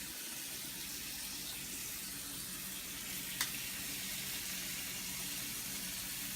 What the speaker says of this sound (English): Now I'm going to put my pork chops on the grill pan.